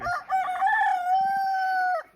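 A rooster crows once in a long, clear, sustained cock-a-doodle-doo at a farm field in the early morning, loud and near with no talk over it.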